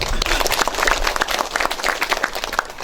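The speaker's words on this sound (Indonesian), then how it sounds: "Tepuk tangan untuk kita semuanya" Lively crowd clapping at the 10th anniversary celebration of GRIB (Gerakan Rakyat Indonesia Bersatu) in Kebon Jeruk, dense and close with sharp individual claps standing out, continuous and fairly loud throughout.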